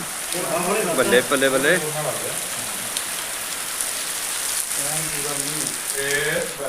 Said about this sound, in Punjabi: ਮੀਂਹ ਵੀ ਪੂਰਾ ਜ਼ੋਰ ਦਾ ਹੈ ਨਾ